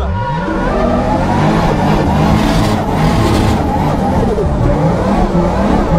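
A drift car's engine revving hard on a practice lap at a drift championship, a loud continuous roar with rising and falling pitch and tire noise, close and dominating throughout.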